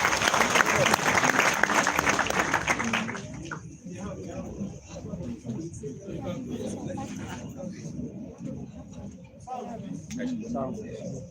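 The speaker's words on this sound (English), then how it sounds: "A round of applause, please." Brief burst of audience applause at a live event that fades after about three seconds, giving way to someone speaking at the podium.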